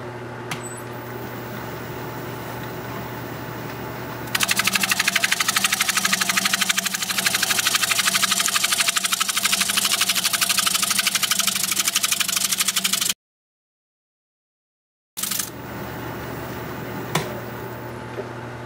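Wood lathe spinning a spalted alder bowl at 730 RPM while a freshly sharpened 5/8 inch bowl gouge cuts, a steady loud motor hum swelling into dense cutting noise, then a brief gap of silence before the hum resumes.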